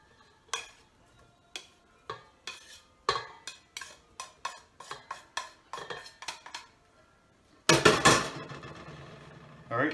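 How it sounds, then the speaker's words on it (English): Softened butter and brown sugar are worked in a bowl with a utensil, producing a series of distinct clinks and taps against the bowl followed by a louder, denser burst of scraping and clattering near the end. "you just want to start mashing it together so that it has a chance to blend and mix together"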